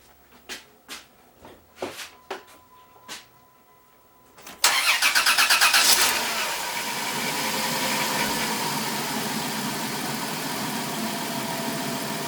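A 2002 Dodge Caravan with a 3.3 engine, just fitted with a new cylinder head gasket, cranks over with several distinct clicks and whirs, then catches and starts loudly, settling into a steady, close idle.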